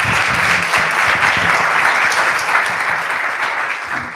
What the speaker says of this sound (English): Another round of applause for Ben.